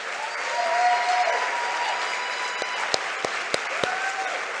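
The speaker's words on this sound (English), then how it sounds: "please give them a round of applause and tell them thank you" A conference audience applauds steadily, with a wash of clapping hands filling a large room and a few louder individual claps standing out near the end.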